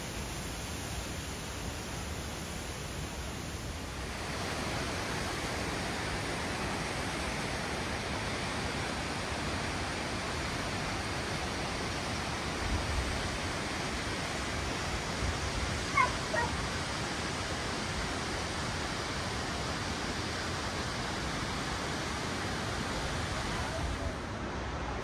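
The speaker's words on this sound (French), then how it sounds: "Encore des cascades. Toujours des cascades." Rushing waterfalls in the Sixt Fer à Cheval valley pour out a steady, dense roar that continues without a break. A short stretch of quieter ambience comes first, and then the water noise fills the rest of the scene at an even level.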